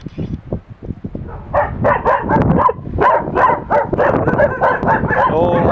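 A pregnant dog barks and whimpers up close in a burst of yips and whines, the sounds running together with no pause, while faint human voices murmur now and then beneath.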